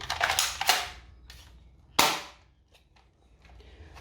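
A toy rifle fires in sharp, snappy cracks: a quick cluster at the start, then one distinct shot about two seconds later, close and fairly loud.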